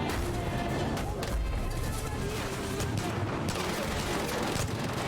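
Rapid bursts of automatic gunfire from a gun firing on its own in Like a Dragon: Ishin, a dense, continuous crackle of shots with booming low impacts, loud and steady throughout the game mix.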